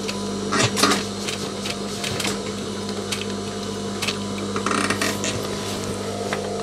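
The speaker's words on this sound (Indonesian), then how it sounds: "Jadi untuk menjahitnya itu lebih baik kita tuntun karena kasihan mesinnya." A sewing machine stitches slowly through a thick denim jacket cuff, a close mechanical whirr with a steady hum and irregular clicks and ticks as the needle is guided through the heavy layers.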